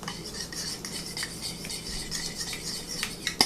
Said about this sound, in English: I'm just going to mix the pudding up.